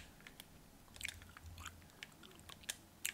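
Close, quiet gum chewing with soft wet clicks and smacks scattered irregularly, picked up by a sensitive near microphone with no talking.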